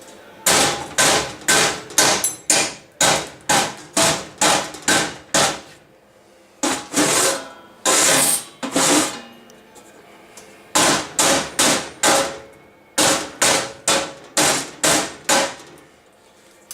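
A good-sized hammer striking a bricklayer's chisel, loud sharp metallic blows close by in quick runs of about eight to ten strikes with short pauses between the runs.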